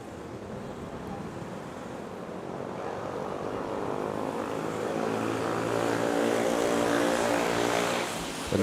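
A Philippine Air Force C-130 propeller plane taking off at Manila airport, a steady broad engine roar with droning propeller tones that swells gradually and stays loud, mixed with wind noise and no voices.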